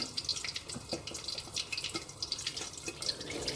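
Water pours into a cooking pot holding fish for a spicy sour tamarind fish stew, a light, steady trickle with scattered drips and splashes, fairly faint and close, with no talking.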